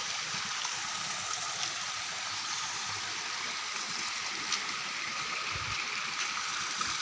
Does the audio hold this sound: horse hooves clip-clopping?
no